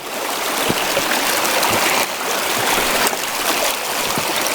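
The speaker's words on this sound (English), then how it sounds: "Waterfall up here into quite the bedrock canyon." Steady broadband rush of a waterfall falling into a bedrock creek canyon, loud and close, continuous throughout with no voices.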